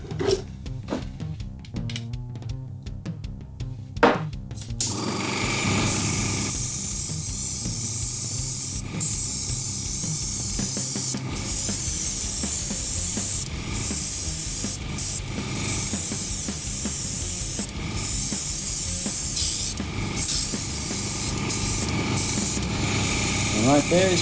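Galaxy colour shift paint sprayed onto a Blood Bowl miniature background, a loud steady airbrush hiss that starts after a few seconds of quiet and runs on continuously with brief dips.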